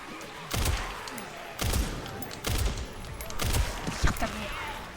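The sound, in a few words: gunfire in a video game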